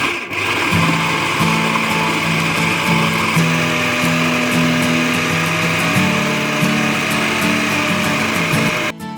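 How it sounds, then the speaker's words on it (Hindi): A mixer grinder jar whirs loudly and steadily, blending spiced ground meat for Karachi-style gola kebabs, with the motor pitch shifting a few times before cutting off abruptly near the end; no one talks. "इसके बाद हम मिक्सर जार में डाल देंगे और अच्छे से हम सब चीज़ों को मिक्स कर देंगे।"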